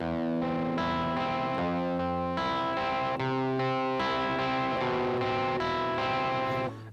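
Distorted electric guitar and bass play a chord pattern together, loud and steady throughout, with sustained ringing chords that change every second or so.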